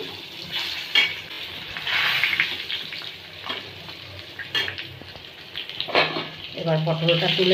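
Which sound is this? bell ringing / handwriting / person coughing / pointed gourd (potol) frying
pointed gourd (potol) frying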